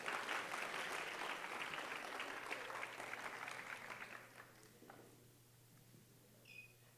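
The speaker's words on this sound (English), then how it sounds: "A little louder applause will tell me you had her samosas." A conference audience at a young builders' event bursts into loud applause that gradually dies away over several seconds, leaving quiet room hum with a faint chirp near the end.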